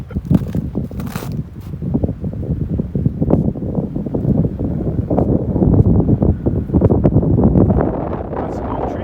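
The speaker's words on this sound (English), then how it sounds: "Yep, back into the wind." Strong wind blowing across an open swamp area in Western Maine, buffeting the microphone with loud gusty rumble and rustling for the whole stretch.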